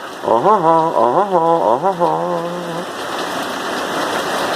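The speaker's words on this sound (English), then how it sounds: "the joyous downpour that we are now experiencing" Steady broadband rain hiss fills the clip, loud and continuous, with a voice singing a short melodic phrase over it at the start.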